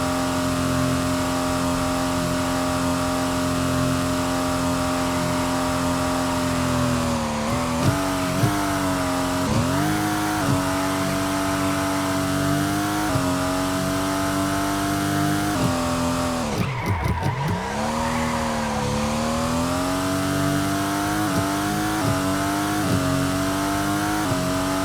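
An F1 2026 race car in Stormworks screams through a hot lap, its engine holding a high sustained whine with repeated dips and rises as it shifts and brakes for corners, loud and continuous throughout.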